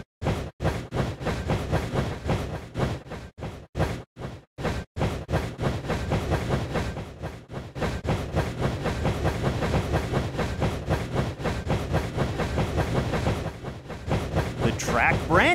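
A steady rumbling train sound from a Dinosaur Train video game with rhythmic clacking runs continuously, loud and close, with a brief dip in the middle and a rising hiss near the end.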